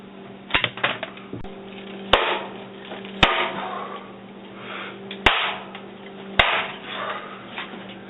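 A massager's casing being beaten open for scrap: a series of sharp, loud hammer blows with irregular spacing and rattling in between, close up, no speech.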